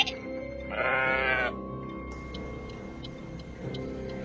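Sheep bleat once, a loud wavering cry, over a steady low rumble of traffic with faint ticking behind.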